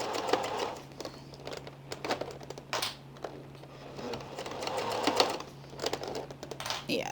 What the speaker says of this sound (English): I'm going to sew it from this other side